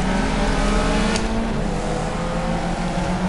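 Caterham Seven race car in the Project CARS racing game at Monaco, its engine droning steadily near and loud, pitch shifting slightly under heavy braking, with a brief sharp click early on and no voices.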